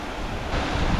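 Steady rushing roar of a mountain waterfall plunging into a pool where trout feed, continuous, full and close, with no voices.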